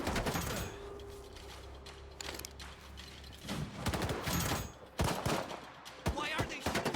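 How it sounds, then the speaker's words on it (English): Gunfire in the video game S.T.A.L.K.E.R. 2: Heart of Chornobyl, with sharp shots cracking out in bursts over a low mechanical hum, getting louder and denser toward the end. "Why are they shooting at us?"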